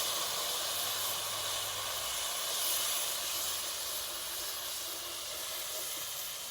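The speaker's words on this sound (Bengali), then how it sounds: "এবার আমি এটা পুরো মিশ্রণটা এই তেলের মধ্যে দিয়ে দিই" A paste of chilli, ginger and ground cumin sizzles steadily in hot oil for a Bengali hing cholar dal. The hiss is continuous and close, with no talking.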